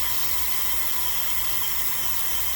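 Steady, loud hiss of steam venting from a T-fal pressure canning pot, a continuous even rush with no breaks and no voices.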